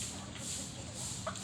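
Chickens cluck softly in a steady, noisy outdoor setting, with a brief louder peep near the end.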